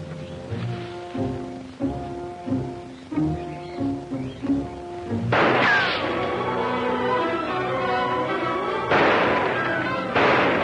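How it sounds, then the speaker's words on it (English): A dense barrage of gunfire in an old Navy adventure serial set near a jungle: a tonal passage gives way to loud, continuous crackling shots and bursts that fill the rest of the scene. "I'll open up with a barrage from my gun."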